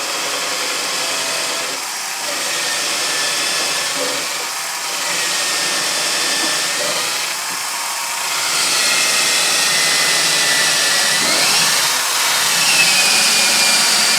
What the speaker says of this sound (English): we'll just drill that through